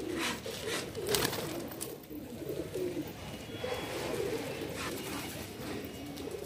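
Madrasi pigeons coo softly and repeatedly in a continuous low murmur over a bed of rustling and chirping background noise, with faint voices now and then.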